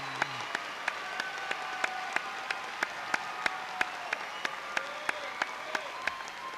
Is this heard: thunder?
no